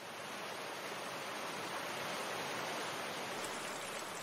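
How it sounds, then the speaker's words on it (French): A small mountain stream, the young Durance near its source in the Hautes-Alpes, rushes in a soft, even hiss of flowing water, faint and unbroken with no other sounds. "la Durance n'est qu'un petit ruisseau lorsqu'elle rejoint son premier affluent"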